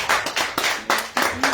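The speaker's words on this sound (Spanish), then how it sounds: "Den un aplauso a Cristo." A short burst of hand clapping during a church service, several sharp claps in an uneven rhythm, fairly close and loud.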